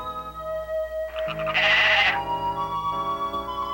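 Goats on a remote island give one clear, wavering bleat lasting about half a second, set against a steady musical background.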